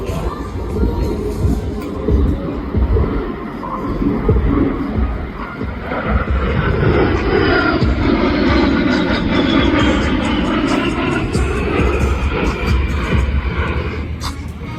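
A roaring jet engine from an A-10 Warthog flying a slow roll at the Central Coast Airfest, sweeping loudly and steadily across the sky over a murmuring outdoor crowd, with the pitch shifting as the aircraft passes.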